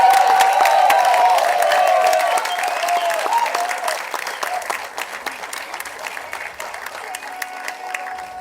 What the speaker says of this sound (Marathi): एकदा जोरदार सरांसाठी टाळ्या वाजूया.